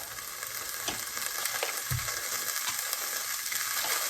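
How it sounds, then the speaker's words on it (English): A couple tablespoons of butter sizzling in a hot pan over a high flame, a steady close crackle with light scraping and a soft thump partway through. "I'm going to put a couple tablespoons of butter. My fire is still up"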